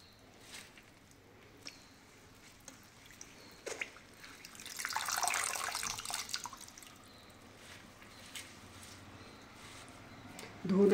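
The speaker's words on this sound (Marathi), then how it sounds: "आता आपण अशीच भाजी 2 ते 3 पाण्याने धुवून घेऊया" Water is poured and splashes over fenugreek leaves being washed in a bowl, with scattered drips and trickles. A fuller splashing surge comes in the middle, all close by and fairly quiet.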